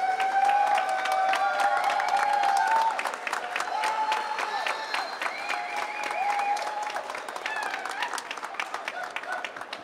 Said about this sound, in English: if you could stand and let our graduates applaud you and recognize you for being here